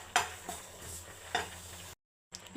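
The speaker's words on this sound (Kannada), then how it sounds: "ಕರಿಬೇವು, ಇದು ಫ್ರೈ ಮಾಡಿ ಹಾಕ್ಕೊಂಡ್ರೆ ತುಂಬ ಚೆನ್ನಾಗಿ ಬರುತ್ತೆ. ಸೊ ಅದಕ್ಕೆ ನಾನು ಫ್ರೈ ಮಾಡ್ಕೊತಾ ಇದ್ದೀನಿ" Curry leaves frying in a pan, quiet crackle with a few sharp spatter pops and stirring scrapes, briefly cut to silence before resuming.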